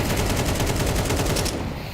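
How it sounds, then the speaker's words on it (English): Counter-Strike rifle gunfire, a full magazine emptied in a dense, loud, rapid automatic burst that runs almost unbroken and tails off at the end. "Unloading a mag through the smoke."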